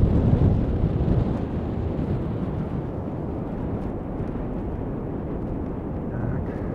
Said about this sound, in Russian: Спиной стоя к ветру, как он дует.